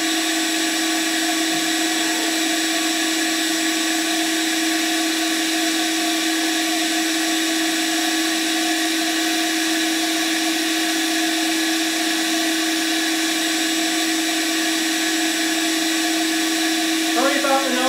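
Power sanding a 12-inch wooden fruit bowl on a woodturning lathe, a steady high whirring drone with constant tonal hum, continuous and fairly loud from start to finish.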